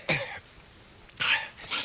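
A man with a sore throat coughs three times, close and hoarse, with pauses between the harsh bursts and no talk.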